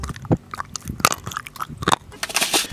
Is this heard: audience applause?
no